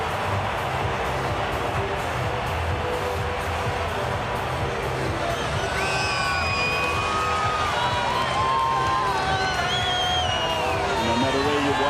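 A large stadium crowd of Blues supporters cheering at State of Origin Game 1 in 2013, a broad roar of voices with rising whoops and shouts, close and loud throughout.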